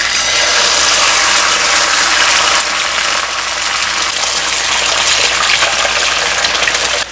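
Eggs fry in a greased pan on medium-low heat with a loud, continuous sizzle and hiss that stays steady throughout, heard up close with no talking.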